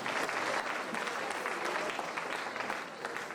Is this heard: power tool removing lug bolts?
no